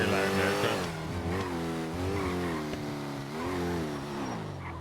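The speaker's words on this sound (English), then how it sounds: "I wish I could turn the engine down," A loud car engine roars in GTA V on the NoPixel roleplay server, droning steadily with rising and falling revs throughout.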